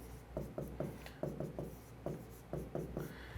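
Pen strokes scratching on paper during a math lesson, a rhythmic series of short, close scraping bursts repeating about every quarter second, with no talking.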